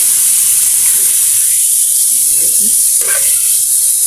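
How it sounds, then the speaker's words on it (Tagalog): Meat sautés in cooking oil with a constant loud hiss and a few small pops and spatters toward the end, with no speech heard. "Gigisa lang natin to mga sis. Pagmantikain natin."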